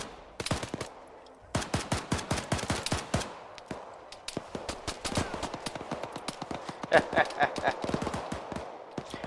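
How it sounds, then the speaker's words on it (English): Sustained gunfire in the military shooter game Arma 3, with rapid bursts of automatic shots broken by brief pauses, fairly close and crisp, with faint game sounds beneath and no talk. "I hear gunfire"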